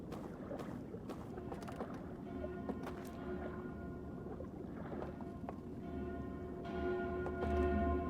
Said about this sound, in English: There are alarms.